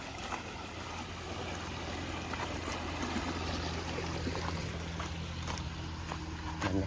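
Water pours continuously down a small waterfall into a fish pond, a steady, close rushing and splashing with no break.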